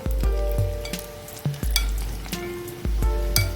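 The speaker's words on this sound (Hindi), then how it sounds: "फटाफट से ही फ्राई में हमारे जो पोटैटो हैं वो भी टेंडर हो जाएंगे अच्छे से।" Potato French fries frying in hot oil make a loud, continuous close sizzle with a few bursts where pieces are stirred or turned, no voices present.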